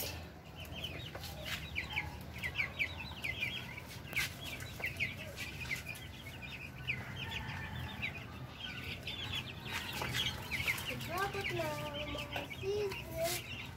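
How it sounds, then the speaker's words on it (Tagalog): A flock of two-week-old chicks peeps continuously in high, chirping calls that overlap one another, some clusters rising and falling, over a steady background murmur of a farm setting. "Ayan na po ang mga sisiw."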